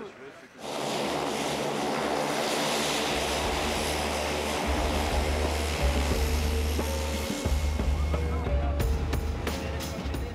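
A military airplane carrying 28 commandos drones loudly from inside the cabin, a dense, steady propeller-engine roar that starts abruptly and holds on, with a few brief clicks near the end and a voice partly heard over it.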